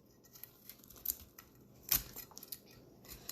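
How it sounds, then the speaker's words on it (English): A knife slicing broccoli florets toward the stems on a board, heard as scattered soft crisp snaps and cuts, with one sharper crack near the middle, quiet and close, with no talk. "And then just cut towards the stems."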